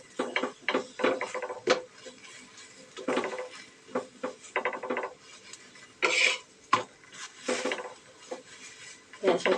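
Food is stirred and roasted in a pan in a home kitchen, with irregular scraping and clinking bursts of a utensil against the pan, fairly close and soft, alone without talk.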